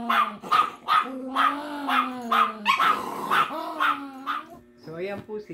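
A poodle and a Yorkie bark and growl in close, repeated bursts, snarling between sharp yips, loud and near.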